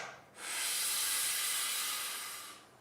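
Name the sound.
breathing in through the mouth to fill the lower chest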